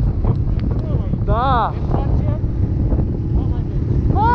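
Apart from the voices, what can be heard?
strong wind on the mountain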